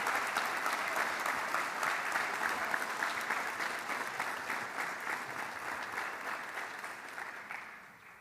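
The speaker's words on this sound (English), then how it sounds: "let's have one more round of applause for our graduating seniors" Sustained applause from a large crowd at a high school armed services ceremony for graduating seniors, steady dense clapping that fills the space and gradually tapers off toward the end.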